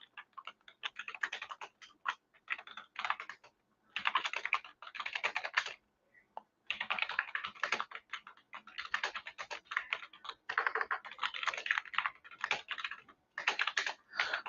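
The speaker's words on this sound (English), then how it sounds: "so I'm just typing in the details here." Rapid clattering keystrokes on a computer keyboard, close and fairly quiet, coming in bursts separated by short pauses while details are entered.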